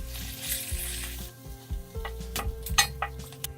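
Onion and green chili drop into hot ghee with cumin seeds, setting off a strong close sizzle that settles into steady frying, with a few sharp clinks of a stirring utensil against the pan.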